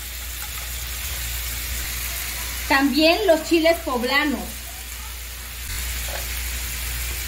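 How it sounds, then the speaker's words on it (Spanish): Chicken strips sizzling in a pan for rajas de pollo with poblano sauce, a steady soft frying hiss running throughout, with a person speaking briefly over it in the middle. "Bueno, vamos a dejar aquí que se fría"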